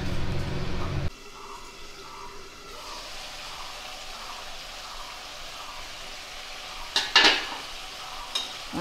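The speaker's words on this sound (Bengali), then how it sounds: "মাংসটা একটু কষবে।" Chicken meat slowly cooking down in a pan for kosha gives a close, steady sizzling hiss with a couple of sharp utensil clinks. A louder burst opens the sound, and nobody talks.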